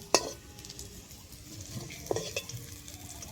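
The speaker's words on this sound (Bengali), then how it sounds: "প্রথমে আলুগুলোকে আমি ভেজে নিচ্ছি" Potatoes frying in hot oil in a home kitchen give off a soft, steady sizzle. A few sharp clinks of a utensil against the pan sound over it, with no talking.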